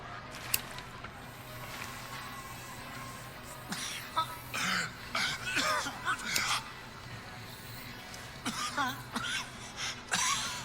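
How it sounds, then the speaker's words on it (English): People in a video game cough and clear their throats repeatedly in short, irregular bursts at moderate distance. A low ambient hum runs beneath them, with a few quiet footstep-like sounds. "This is a lot of coughing."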